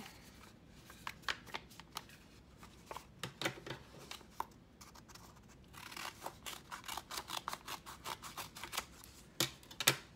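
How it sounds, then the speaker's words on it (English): Scissors snip through folded paper in a run of sharp, crisp cuts, sparse at first and then coming in quicker clusters, close and clear with no talking. "Fold this in half and cut it."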